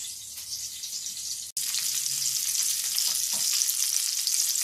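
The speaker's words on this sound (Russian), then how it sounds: "Сейчас я их буду обжаривать на сковородке в подсолнечном масле." Breaded cutlets coated in crumbs and flour fry in sunflower oil in a pan, a steady close hiss with a momentary dropout before the sizzle resumes evenly, no talking.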